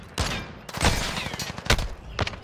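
In a video game firefight, bursts of gunfire crack out loud and close, in several distinct volleys with brief pauses between them.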